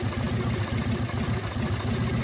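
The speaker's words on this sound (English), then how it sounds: "with the engine fully warmed up and at idle" A warmed-up motorcycle engine with an S&S Super E carburetor idles steadily, a close, continuous low throbbing rumble with an even pulse and no talk over it.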